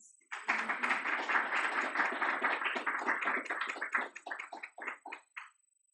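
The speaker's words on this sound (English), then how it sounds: "Please give him a round of applause." Applause from an audience at a prose reading event, a dense burst of clapping that holds steady, then thins into scattered claps and fades out within about five seconds.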